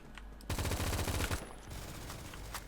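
Rapid automatic gunfire in the video game Phantom Forces, a loud dense burst of shots followed by a quieter second volley and scattered single cracks.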